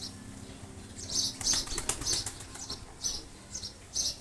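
Pigeons in a home loft flap their wings in repeated sharp bursts, some close and loud, with brief chirps and a low steady background hum.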